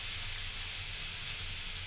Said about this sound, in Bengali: তো একটু হালকা করে ভাজ।